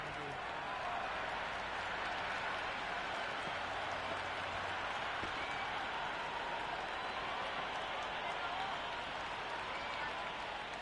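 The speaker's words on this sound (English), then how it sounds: "the crowd have joined the party. It's pretty noisy at the ground" A cricket ground crowd cheers and applauds in a continuous distant roar that stays level throughout, with faint commentary murmuring beneath it.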